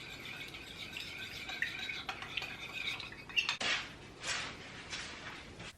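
Warm water, sugar and yeast stirred in a bowl: a spoon scrapes and clinks against the sides in quick light strokes, then a few louder swishing sweeps near the end, close and quiet.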